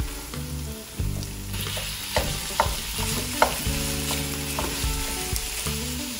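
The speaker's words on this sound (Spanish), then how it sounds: "Cuando la cebolla empieza a ponerse transparente, el pimentón cambia de color, se pone más pálido, agregamos la carne molida." Ground beef hits a pan of softened onion and bell pepper for picadillo, sizzling loudly while a utensil stirs and scrapes with a few sharp knocks against the pan; nobody speaks.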